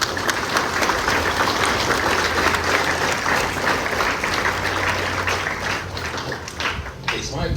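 An audience at a 9/11 memorial ceremony applauds for the high school AFJROTC cadets, a steady, full wash of clapping that carries on for several seconds before trailing off.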